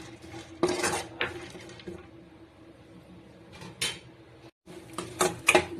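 Almonds are roasted and stirred in a pan, with clattering scrapes and knocks of a utensil against the metal in irregular bursts over a steady low hum, and no speech.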